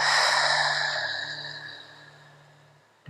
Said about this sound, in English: We're going to focus on a nice long inhale in through the nose. And exhale.